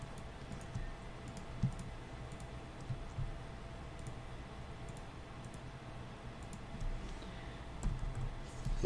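Keys on a computer keyboard tap quietly along with occasional mouse clicks during JavaScript coding, soft and sparse over a low room hum, with a slightly louder click near the end.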